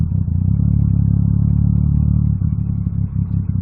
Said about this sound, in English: I don't know if the mic's picking up the pops and bangs of the exhaust.